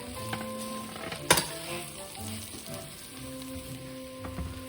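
Canned ingredients stirred in a sizzling pan, with a steady soft frying hiss broken by a sharp scrape or clank of the utensil against the pan and lighter stirring knocks.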